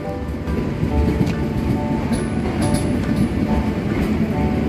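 Interior of an older Gajayana executive class train carriage on the Gambir–Malang run, a loud steady rumble of the moving train with continuous wheel and track noise, no speech.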